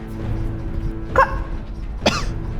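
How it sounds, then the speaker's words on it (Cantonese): A person gives two short, sharp coughs about a second apart, loud and close over a low background hum, with no talking. "咳一聲啊，睇下。"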